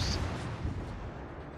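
Distant naval gunfire from the Italian battleship Andrea Doria in a naval combat game, a low rumbling boom that rolls on steadily through the whole moment without talk.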